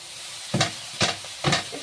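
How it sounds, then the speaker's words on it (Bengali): Chopped banana flower in hot oil gets three quick stirring scrapes over a soft background sizzle, close and fairly quiet, no one speaking. "এবার মোচাটা দিয়ে দেবো তেলে"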